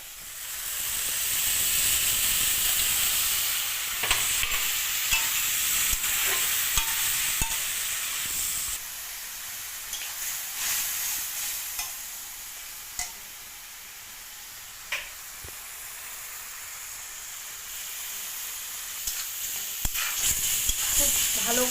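Ghugni spices with tomato are stirred and fried in a pan, a close steady sizzle and hiss broken by repeated scraping taps of the spoon, louder at first and then settling into a softer fry.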